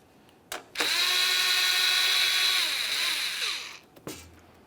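A power drill whirs at full speed for about three seconds, removing a 7mm bolt holding a plastic panel on a 2017-2024 GMC Acadia, then winds down; short bursts sound before and after.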